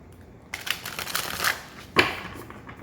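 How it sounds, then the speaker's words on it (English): Tarot cards are shuffled by hand close by, producing soft scratchy riffling and sliding bursts at a quiet level, with a sharper card snap near the end and no talking. "let me get into this good shuffle"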